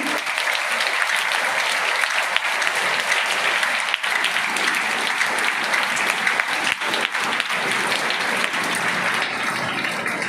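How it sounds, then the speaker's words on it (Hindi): Audience at a Teacher's Day school function at St Mary applauds the teachers, dense sustained clapping that carries on steadily for several seconds with no talk. "उनके लिए एक बार जोरदार ताली बजाएंगे।"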